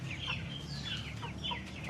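Chickens cluck and chatter in a backyard poultry area kept alongside ducks and pigeons, a steady close flock murmur with repeated short calls and no one speaking.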